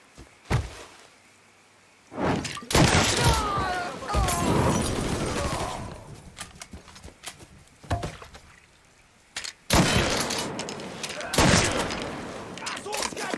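Heavy gunfire in a Mafia 3 firefight: repeated loud bursts and volleys over about thirteen seconds, broken by short lulls, with shouting voices in the mix.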